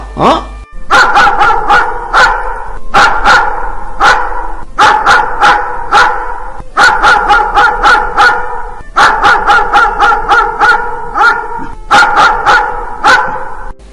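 Dogs bark loudly and repeatedly in quick clusters of sharp barks, one burst after another throughout.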